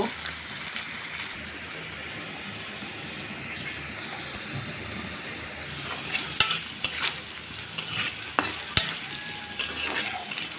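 Potatoes fry in hot oil for a snakehead fish curry with tomato, giving a steady, close hiss of sizzling with a few sharp spatters and utensil clicks in the second half.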